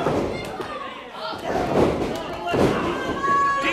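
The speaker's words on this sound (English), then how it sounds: "Camacho scoops up Double D and drops him, power slams him right on that back." A wrestler is scooped up and power slammed flat onto his back on the mat during an independent pro wrestling match, giving dull heavy thuds amid crowd noise and commentary.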